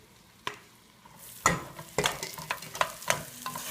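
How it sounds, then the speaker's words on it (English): Garlic mashed potatoes are stirred and scraped in a pan over very low heat, giving soft sizzling and a series of close, uneven scraping taps with no talking. "here are my mashed potatoes going in"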